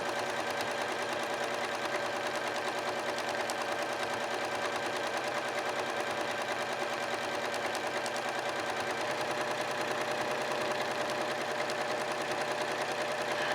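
A sewing machine runs steadily, free-motion quilting triangle designs on a fabric quilt, with a continuous even whirring hum and fine rapid needle ticking throughout, no pauses.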